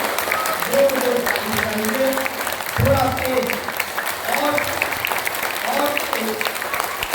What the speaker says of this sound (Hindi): दोनों हाथ ऊपर कर जोरदार तालियों का जोरदार ताली बजाएंगे।